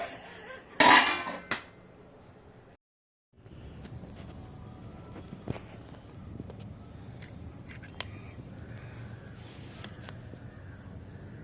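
A plate is set over a pan of cooked sago mixture with one sharp metallic clank near the start. A brief silence follows, then a faint, low background hum with a few small ticks.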